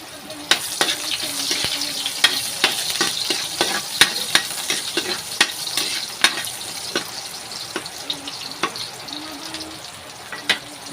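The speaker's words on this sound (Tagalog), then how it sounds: "Lagyan na po natin yung bawang at sibuyas." Garlic and onion sauté in a wok on the stove, giving a steady broad sizzle broken by frequent sharp scraping clicks of a spatula stirring the pan, close and continuous with no talk.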